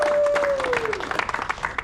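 Crowd applauding at a cricket tournament presentation ceremony, a busy spread of hand claps heard close, with a sliding electronic tone fading out at the start and the clapping growing more scattered toward the end.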